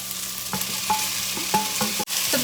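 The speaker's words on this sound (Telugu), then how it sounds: "ఆనియన్స్ అయితే ఇట్లా వేగిపోతున్నాయి." Onions fry in a hot pan with a steady close sizzle, broken by several distinct stirring scrapes and clinks spaced about half a second apart.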